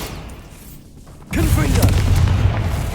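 A Bombarda blasting spell goes off in Hogwarts Legacy: a sudden loud boom lands about a third of the way in after a quiet lead-in, followed by a sustained rumbling, crackling blast with magical whooshing layered on top.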